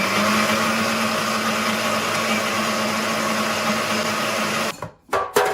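A blender whirs steadily and loudly while liquefying food, then cuts out in a couple of abrupt stops near the end.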